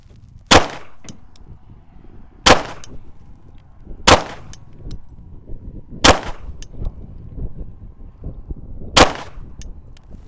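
Five sharp rifle shots ring out at irregular intervals, each a loud broadband crack with a brief metallic clang as the rounds strike and skip off a vehicle's hood, close by and with no talking.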